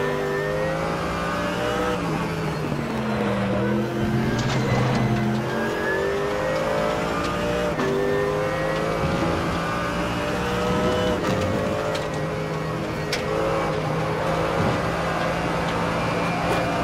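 GT3 race cars in the RaceRoom sim racing game at Portimao roar continuously, engines revving and shifting at close range, with a voice briefly talking under the steady engine noise.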